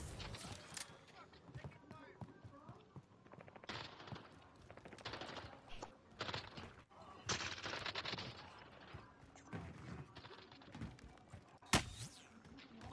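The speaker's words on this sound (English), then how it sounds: "Bro, but who is shooting at me right now?" Rapid bursts of gunfire in a Call of Duty: Modern Warfare match, scattered shots and automatic fire crackling through the whole stretch with a sharp loud crack near the end, while a voice talks over the shooting.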